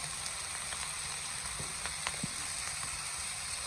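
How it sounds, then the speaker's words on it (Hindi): Potatoes and carrots fry for a vegetable pulao while a spoon stirs them, giving a steady, quiet sizzle with a few soft scrapes and taps from the spoon. "एक बार गाजरों के साथ चम्मच चला देंगे ताकि आलू भी हमारे अच्छे तरीके से भून जाएं।"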